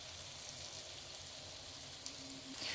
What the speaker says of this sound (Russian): Теперь в яйцо, опять в муку и на сковородку.